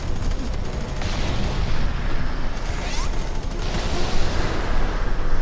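Gunfire in the video game F.E.A.R. 3, dense continuous volleys of automatic shots and booming impacts forming a loud, rough barrage that runs throughout.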